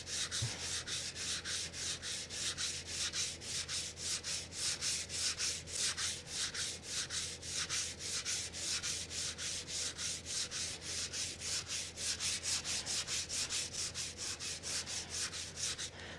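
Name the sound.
fine sandpaper sanding a Lambretta scooter panel for paint prep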